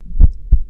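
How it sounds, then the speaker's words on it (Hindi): Two deep, thudding heartbeats in quick succession, close and muffled, with a low hum between them. "उसका दिल तेज धड़क रहा था।"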